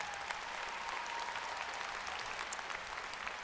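A crowd at a 2018 university undergraduate commencement ceremony claps in a steady, even wash of applause, heard from some distance and fairly faint, with no speech over it.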